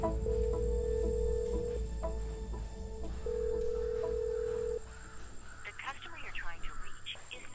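A telephone rings with a repeated electronic tone that goes unanswered, two long ringing bursts over a steady hum, after which people begin talking.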